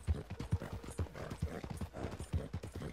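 Steady clip-clop of horse hooves in a video game, rhythmic and close, with regular strikes running throughout.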